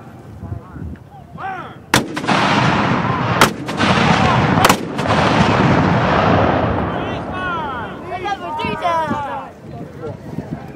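Civil War reenactment cannon battery at a Battle of Shiloh event firing by piece from the right: several loud, sharp booms spaced a second or two apart, each followed by long rolling echo, with outdoor crowd chatter and voices throughout.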